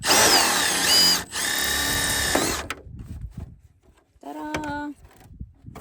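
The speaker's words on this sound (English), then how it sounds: "I really have to drill it off or something." A power drill whirs loudly in two long bursts, removing the AC shroud on a 2000 Dutchman travel trailer, then a short higher-pitched spin-up follows after a quiet gap with faint rustling.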